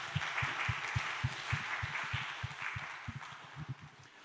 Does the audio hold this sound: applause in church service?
yes